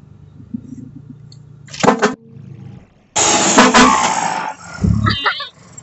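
A tractor working on building a dirt road gives out rough engine rumbles in loud bursts nearby, with a brief quieter stretch between them and some voices mixed in.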